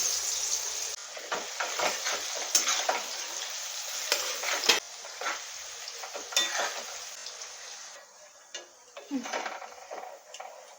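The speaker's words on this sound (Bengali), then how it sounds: "নারকেল কুচনাগুলো ভেজে নেওয়া হবে" Oil crackles and sizzles steadily as chopped coconut pieces fry in a pan, with occasional sharper pops and clicks of stirring.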